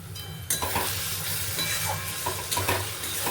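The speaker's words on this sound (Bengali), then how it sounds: "এবার দিয়ে দেবো আমি অর্ধেক টমেটো," Half a tomato drops into a hot frying pan, stirred into steady sizzling oil with a few scraping clatters of a spoon against the pan, close and continuous.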